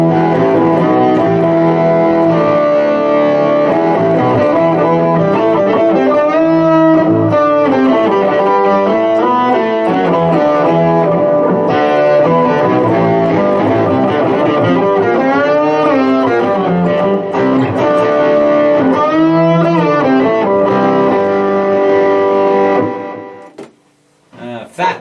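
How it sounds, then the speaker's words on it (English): Electric guitar played through a Boss GT-100 processor on a distortion and overtone patch, a continuous loud run of sustained, harmonically rich distorted notes and bends that cuts off near the end, with no talking. "A distortion and overtone."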